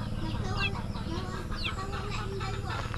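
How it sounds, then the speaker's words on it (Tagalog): Chickens cluck and murmur steadily nearby, with short squawky calls rising over a constant low background hum and faint voices. "May mga nakakulong ditong manok oh"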